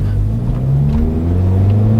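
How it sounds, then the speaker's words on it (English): Little Toyota car under full throttle, its engine droning loudly and rising slowly in pitch as it accelerates, close and alone with no voices. "You can hear the blow-off valve."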